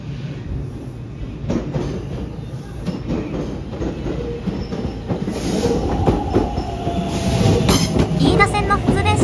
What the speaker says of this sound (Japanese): 飯田線の電車が到着しています。